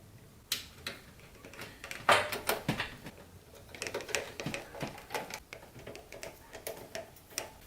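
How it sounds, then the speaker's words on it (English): Screws being driven in while a Corsair AX860 power supply is mounted into a PC case, with a string of sharp clicks and ticks at an irregular pace, near and fairly quiet, and no talking. "Now we're going to put the screws in the power supply."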